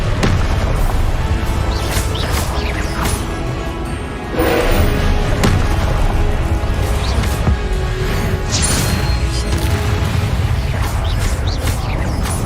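Repeated Confringo blasting spells in a Harry Potter video game burst in loud booming thumps amid dense, continuous battle noise, with brief voiced spell casts.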